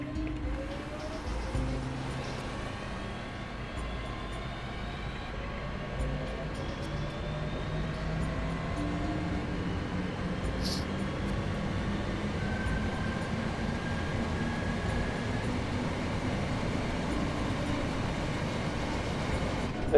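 A Class 323 electric train running in the video game Train Sim World 4, its steady motor whine and rolling rail noise droning continuously, with rising and falling traction tones throughout.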